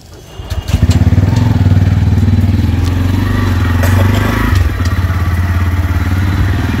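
A motorcycle engine starts up and idles with a steady, loud, throbbing putter close by, a few light clicks and clatters on top.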